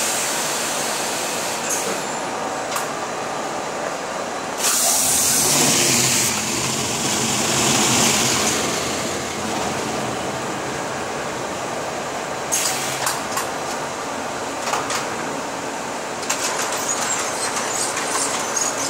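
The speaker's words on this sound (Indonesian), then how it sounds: "Itu yang mesin presnya ya." A press machine in a textile factory in Taiwan runs with a loud, continuous mechanical roar. A harsher hissing surge rises in the middle and scattered clanks follow later, with no talk.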